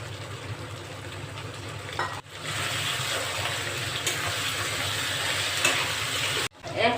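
Chopped tomato frying with garlic and ginger paste for dry chilli cauliflower, heard as a steady, moderately loud wet sizzle and hiss with brief dips where stirring pauses, nobody speaking.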